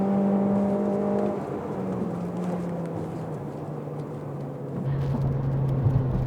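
A car accelerates hard off the start line in an under-150 hp touge mountain-road race, its engine note climbing steadily in pitch through the gears, loud and close for the whole stretch.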